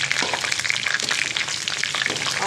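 Whole round red chillies and green chillies fry in hot oil as a tadka for kadhi pakora, giving a dense, steady sizzle and crackle that stays close and fairly loud throughout.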